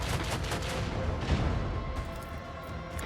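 A macro cannon salvo from a warship in Warhammer 40,000: Rogue Trader, a dense, sustained roar of overlapping heavy cannon blasts rolling on for several seconds with no pauses.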